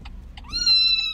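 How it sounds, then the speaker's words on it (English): A newly adopted pet cat gives a couple of short, faint chirps, then a loud, drawn-out meow close by, with no talking over it. "Well, this is my new cat."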